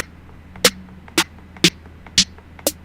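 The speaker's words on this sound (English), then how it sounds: "Your typical trap sounding snares." Trap-style snare samples from a beat made in LMMS: five sharp, bright hits spaced evenly about half a second apart, each crisp and short, alone over a faint low hum.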